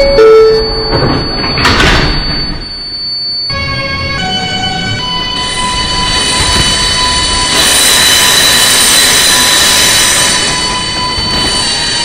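New York subway 6 train (R142A) doors slide shut with a chime-like tone, followed by the steady hum and rising whine of the train pulling away, loud and close.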